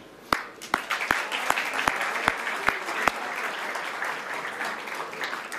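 Applause from an awards-ceremony audience, starting with a few loud, distinct claps that quickly merge into steady, moderately loud clapping across the hall.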